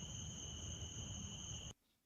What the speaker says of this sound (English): There's crickets.